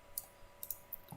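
Keyboard key presses in After Effects: several faint, sharp clicks at irregular intervals against low background hiss.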